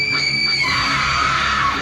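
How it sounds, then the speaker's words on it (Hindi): A woman lets out a loud, sustained scream as a horror story sound effect, a sharp, piercing cry that holds and then falls away over less than two seconds. "ज़ोर से चीख मारी"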